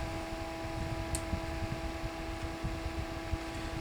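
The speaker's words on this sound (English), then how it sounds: "So this fan can run continuously if you have it plugged into the 5-volt power supply the entire time." A Funlab 01 rechargeable USB toothbrush fan runs with a faint, steady motor whir and soft airy hiss, close and continuous with no talk.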